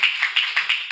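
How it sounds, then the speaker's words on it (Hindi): A congregation claps hands at a morning devotion sermon, a quick run of sharp, fairly close claps in an even rhythm heard alone. "उस खुदावंद के जलाल के लिए जोरदार ताली बजाएं"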